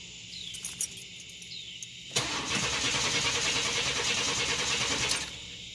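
A 1990 Chevrolet S10 Blazer with a dead fuel pump cranks without starting. A few faint clicks come first, then about three seconds of steady starter churning, loud and close, before it stops.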